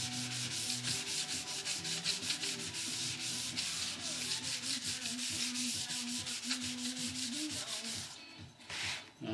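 Steady back-and-forth sanding of a lacquered body for a DIY Les Paul guitar kit, close and continuous rhythmic strokes with no talk, ending in a short pause.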